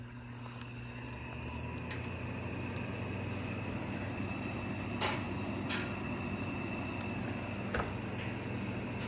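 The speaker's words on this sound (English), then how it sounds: "All right, we'll start it up on low fan." A 1996 GE window air conditioner runs on low fan with a steady, even droning hum and whir, heard fairly close. A few soft clicks and taps break the constant tone.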